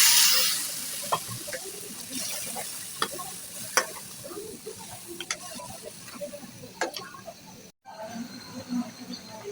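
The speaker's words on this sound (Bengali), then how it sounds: "আর এখানে অল্প করে পানি দিয়ে দিচ্ছি।" A roast in a pan of well-fried spices sizzles after a splash of water goes in, a soft steady hiss broken by scattered crackles and stirring clinks, with a brief dropout near the end.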